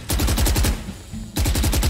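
Automatic gunfire in the video game Valorant on the Icebox map, loud rapid bursts of shots in two volleys separated by a short quieter gap.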